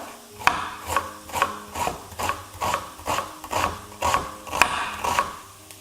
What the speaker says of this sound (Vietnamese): sau đó mình cắt hạt lựu. Nhớ cắt cho thiệt nhỏ